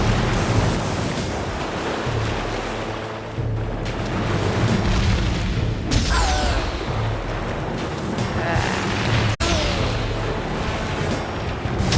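Booming gunshots and explosions from the video game Fable rumble over a dense, noisy game soundscape, with a few sweeping effects and one sharp crack near the end.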